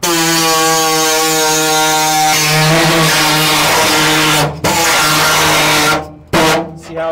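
Loud, high-pitched whine of a power tool cutting into rusted body metal on a barn-find Chevelle, a sustained tone that cuts out briefly near the end, then stutters and resumes.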